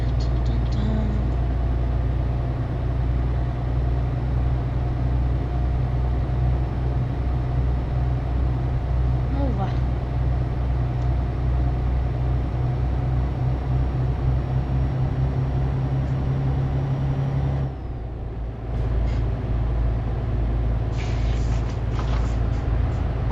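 A heavy truck in Euro Truck Simulator 2 drives with a steady, droning engine hum and low rumble throughout. The sound dips briefly once and then resumes at the same level.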